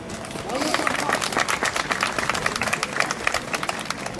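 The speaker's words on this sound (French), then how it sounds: "Merci Sandra, on peut l'applaudir je crois." An audience claps steadily at the Miss Alsace 2013 election, a dense, even patter of many hands in a hall, sustained throughout at moderate loudness.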